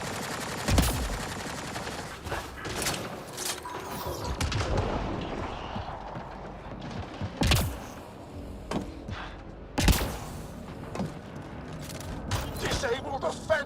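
Video-game gunfire from a hard-hitting, limited-ammo weapon in Mass Effect: Andromeda comes as a few sharp, loud shots spaced seconds apart, with clatter and mechanical sounds between them and someone talking over the action.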